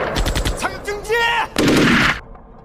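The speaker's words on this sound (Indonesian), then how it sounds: "pasukan disambut oleh gelondongan tembakan" Gunfire erupts in a war film set in a bamboo forest: rapid automatic bursts and sharp shots crackle loudly, layered with echoing blasts before cutting to silence.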